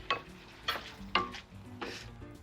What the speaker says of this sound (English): Let the tomatoes kind of cook in there.